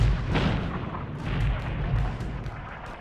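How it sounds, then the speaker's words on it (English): Artillery shells bursting in a WWI battle, heavy booming detonations with a deep rumbling tail, a few close blasts within three seconds and no talking. "Shells and projectiles burst everywhere about us, with a force that lifted us off our feet."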